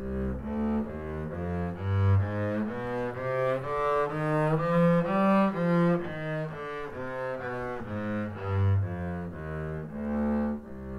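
A double bass plays a slow scale, deep bowed or plucked notes stepping up and back down one at a time, steady and alone.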